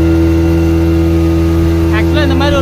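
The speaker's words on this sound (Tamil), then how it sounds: "இந்த மாதிரி ஒரு போட் நம்ம கிட்ட கொடுத்தா ஜாலியாக ஓட்டிகிட்டே இருக்கலாம்" Motorboat engine on the Malampuzha dam reservoir, a steady loud drone with strong low hum throughout, while a person talks briefly near the end.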